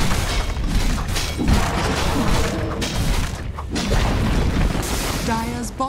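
A defensive tower in a Dota 2 match under attack and falling amid the fight, heavy booming impacts and crashes layered over continuous battle noise, with a brief announcer-style voice near the end.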